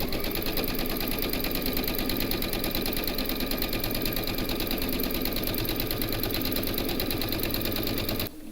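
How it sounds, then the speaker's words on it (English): An embroidery machine stitches the first round of a hooped quilt block, a rapid, steady, mechanical chatter that runs loud and unbroken before stopping at the end. "pop your hoop into your machine and stitch round number 1"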